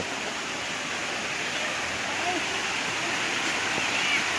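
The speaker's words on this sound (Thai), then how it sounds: "และนี้เราก็มาถึงน้ำตก ไซโยกน้อยเรียบร้อยแล้วนะคะ" Sai Yok Noi waterfall in Kanchanaburi, a steady wash of rushing water that holds unbroken and fairly soft throughout, with faint crowd murmur mixed into the background.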